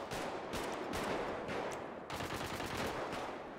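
An AK rifle in GTA 5 fires in rapid automatic bursts, each volley a dense crackle of sharp shots with short gaps between them, loud and close.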